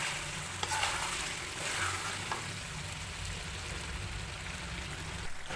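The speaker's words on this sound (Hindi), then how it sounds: "अब इसको डाल के अच्छे से भून लूँगी" Mutton sizzles and fries steadily in a pan with green chilies and ginger slices, a continuous crackling hiss broken by occasional stirring scrapes, close and fairly quiet, with no talking.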